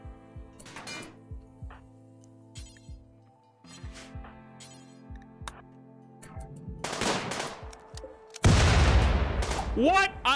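RimWorld combat gunfire: scattered sharp shots and clinks at first, then a loud, dense burst of rapid fire near the end, with other game effects between.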